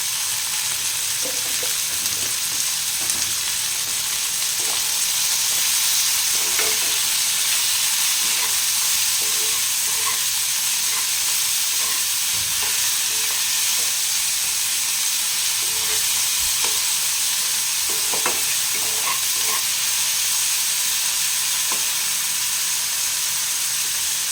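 Small fish fry in oil in a pan with a constant close sizzle, punctuated by scattered soft scrapes and taps of a spoon stirring them over about twenty-four seconds, with no voices.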